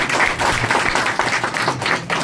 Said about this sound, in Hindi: जोरदार ताली हो जाए सर सैयद साहब के लिए।